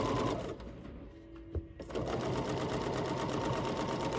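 A BERNINA sewing machine fitted with echo quilting foot #44C stitches steadily at close range, a continuous whirring drone that briefly drops and pauses near the middle before resuming at full speed.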